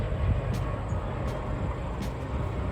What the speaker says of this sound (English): There, it's passing through.